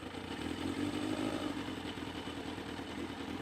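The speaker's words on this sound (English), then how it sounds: "Let's start her up." A four-cylinder motorcycle engine running steadily close by, a continuous mid-pitched hum with a light clatter, no distinct start or rev, and no talking.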